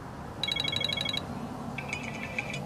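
An iPhone 7 ringtone plays two short melodic patterns, a bright repeated chiming tone followed by a second electronic trill, fairly close over quiet room noise.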